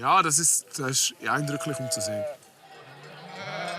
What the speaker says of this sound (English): traditional black-nosed sheep from the Valais